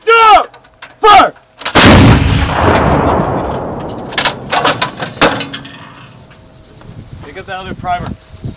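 A Marine artillery howitzer fires during 12th Marines relocation training, one huge close blast with a long rumbling decay, after shouted commands and followed by voices.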